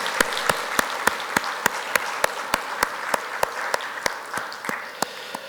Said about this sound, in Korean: 우리 박수로서 영광의 박수로 함께 하겠습니다